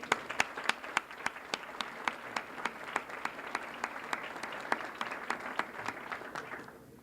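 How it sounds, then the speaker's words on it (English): Rousing applause from an audience at a 1989–1990 high school senior athletics awards night, honoring the caterers and their staff; steady, dense clapping with sharp individual claps standing out, sustained for several seconds before tapering off. "a rousing applause."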